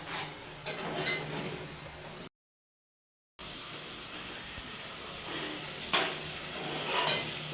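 Yellow ghee heats in a pan over a stove turned up high, making a soft hissing sizzle that cuts out briefly partway through and then comes back, with light stirring clatter.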